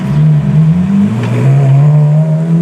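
A Ferrari F430 Challenge race car accelerating hard on a public street, its loud, close engine note climbing steadily and continuously with no talking over it.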